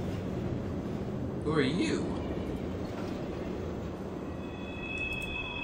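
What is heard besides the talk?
monorail train riding in video game Doom 3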